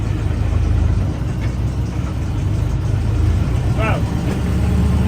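Alvis Stalwart military vehicle engine running at a steady low idle, a loud constant rumble close by, with people talking over it.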